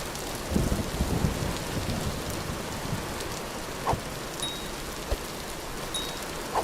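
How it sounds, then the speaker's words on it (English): Steady localized rain pours in the survival game Vintage Story, a dense even hiss of falling drops with a few faint distant thumps and clicks scattered through it. "Let me know if the rain sound is too loud, guys. The rain's pretty localized in this game."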